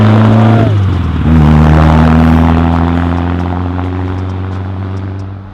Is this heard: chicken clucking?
no